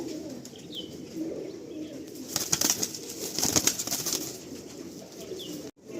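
Pigeons in a loft give soft, low cooing calls with a few brief wing flaps and chirps mixed in, close by and fairly quiet, with no talk.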